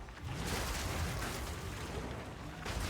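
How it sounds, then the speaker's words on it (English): Dense, rumbling bursts of bleed explosions in the action RPG Path of Exile 2, a continuous heavy wash of blasts and impacts, fairly quiet and with no voices. "I'm already noticing the bleed explosions, all that kind of stuff"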